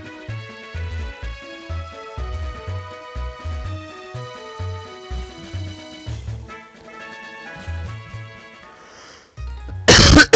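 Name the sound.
coughing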